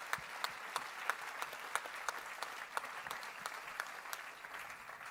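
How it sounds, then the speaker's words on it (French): An awards ceremony audience claps for the jury, a steady, moderately distant patter of many hands with irregular sharper claps standing out, continuing evenly throughout. "Applaudissions le jury."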